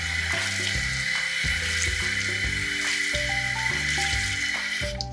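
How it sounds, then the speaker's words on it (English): Cold tap water runs into a pan while dyed silks are rinsed under it, a steady loud splashing stream with irregular clinks and knocks from handling in the sink. "You want to keep on rinsing until the water looks clear."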